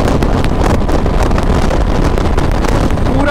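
Royal Enfield Classic 350 motorcycle (2021) ridden at full throttle near top speed; loud, steady engine roar heavily mixed with wind buffeting on the microphone.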